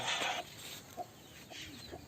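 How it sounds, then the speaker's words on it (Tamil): A fighting rooster walks in a village field, giving a few short, faint clucks at spaced intervals after an opening rustle. "ஒரு சண்டைக்கோழி எப்படி போறாரு பாருங்க"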